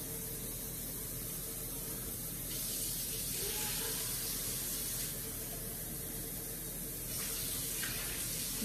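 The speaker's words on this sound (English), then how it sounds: "I'm going to add 2 cups of water." Two cups of water pour from a tap into a cooking pot for a bean meal prep, a steady hissing stream that swells louder in a few bursts, close and alone without talk.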